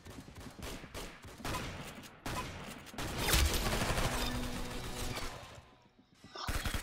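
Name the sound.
Mag 7 shotgun fire in Roblox Arsenal video game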